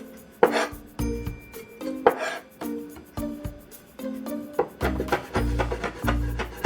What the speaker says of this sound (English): we'll just mince this also